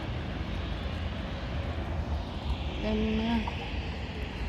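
A British Airways plane flies near London City Airport, its engine roar a steady, fairly loud drone throughout, with a brief whining tone partway through and a voice speaking briefly.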